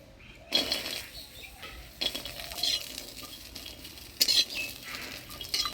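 Black cumin, green chilli and garlic frying in a pan, a soft crackling sizzle broken by several bursts of spatula stirring and scraping, close and without talk.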